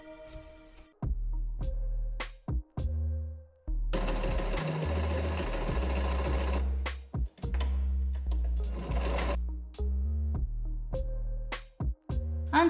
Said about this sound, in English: I'm going to sew it in a white thread, so it's the same color as the one I'm going to put on top